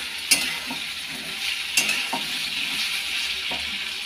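Papaya and potatoes frying in an oiled pan: a constant bright sizzle up close, with a few spatula scrapes and knocks against the pan.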